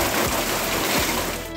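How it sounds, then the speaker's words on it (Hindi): Rain falling steadily during a weather shift across northern India, a dense, even hiss of drops with no breaks and no voices, close and moderately loud throughout. "कहीं राहत की बारिश बनकर बरस रहे हैं।"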